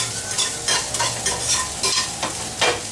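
Potatoes for kasuri aloo stirred briskly with a ladle as they fry in hot oil: a steady close sizzle under repeated scraping strokes of the ladle, with no voices.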